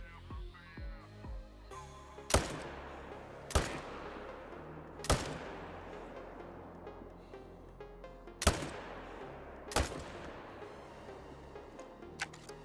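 Rifle shots in the hunting game Call of the Wild, five sharp loud cracks spaced a second or more apart, each trailing a short echo over faint outdoor ambience.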